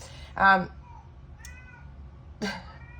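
A cat meows twice, a short clear cry followed about two seconds later by another, close by in a quiet room.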